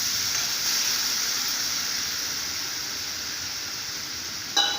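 Ground spice paste fries with onion and tomato in a pan for prawn malaikari, a soft even hiss of sizzling oil that holds steady, ending with a brief knock.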